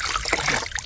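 Water splashes and trickles in short, close bursts while a dog is being bathed with soap.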